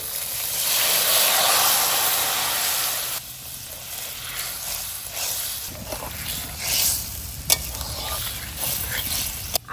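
Curry with ground cumin and coriander paste frying lightly in a pan, a soft steady sizzle and hiss with occasional stirring scrapes and clinks, close by, with no talk over it.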